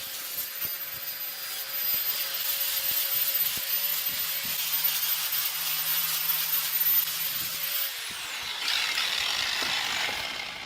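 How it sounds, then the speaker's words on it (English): Steady hissing drone of a diamond grinding disc sanding a handmade cement and dye floor tile, continuous and fairly loud for about ten seconds, with a shift in tone near the end. "you need to sand each floor tile with a diamond grinding disc"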